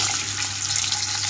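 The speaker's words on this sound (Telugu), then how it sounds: "అన్ని వైపులా చక్కగా ఫ్రై అయ్యేలాగా తిప్పుకుంటూ ఫ్రై చేసుకోవాలి ఎగ్స్" Halved boiled eggs fry in hot oil in a pan, a steady close sizzle and hiss running without break.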